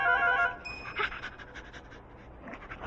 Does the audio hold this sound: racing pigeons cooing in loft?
no